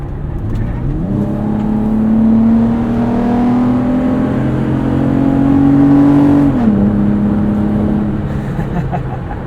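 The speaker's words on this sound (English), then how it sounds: "The FJ definitely wins the sound, the engine sound competition." A modified 2014 Toyota FJ Cruiser engine drones steadily from inside while driving, pitch climbing slowly before a gear shift drops it, with road noise underneath.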